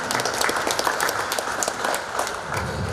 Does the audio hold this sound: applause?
yes